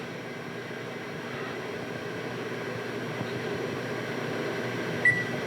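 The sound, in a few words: microwave oven running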